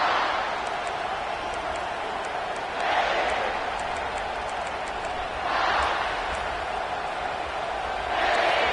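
A stadium crowd in a Madden football video game sends up a steady roar that swells into three rhythmic cheering surges, with a commentator-style voice running underneath.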